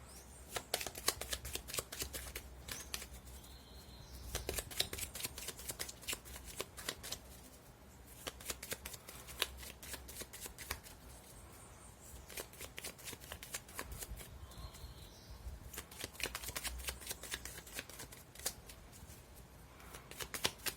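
Tarot cards being shuffled by hand in repeated bursts of fast riffling and flapping, close and clear. Short pauses separate the rounds, and no voice is heard.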